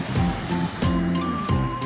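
Sea waves wash steadily onto a sandy beach in Santa Ana, Cagayan, a continuous close rush of surf with recurring swells and no talking.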